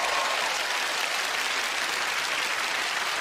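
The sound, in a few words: audience applause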